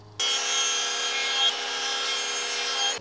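A 1/4 inch dado stack on a table saw cuts a rabbet in wood: one loud, steady whining cut that starts abruptly and stops abruptly about three seconds later, with no talk.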